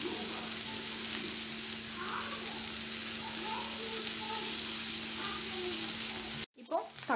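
Onion sautés with garlic, ginger and green chilli in a pan for masala puri chaat, giving a steady close sizzle with a low hum underneath and a brief clatter right at the end.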